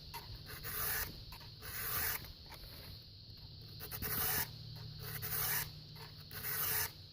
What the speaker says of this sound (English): And this here is how you properly sharpen a chainsaw.